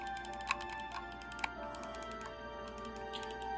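Gold D-pad on a Gamesir Cyclone 2 wireless controller clicking in a few quick, light presses, two sharper taps standing out against a faint steady background hum.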